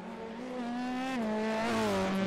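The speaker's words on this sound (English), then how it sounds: "more race cars are out there, louder ones as well, already tearing up the track" Race cars screaming around the Long Beach street circuit in an F3/F4 racing game, a steady high engine whine with shifting pitch that swells louder toward the end, with no talk over it.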